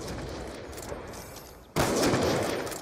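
Gunfire from a wallbang shot in a video game, a muffled stretch of game noise that abruptly jumps into a loud, dense burst of shots in the second half.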